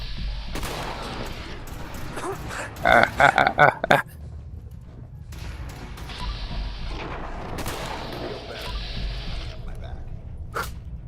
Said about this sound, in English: Whoa there, laser guns.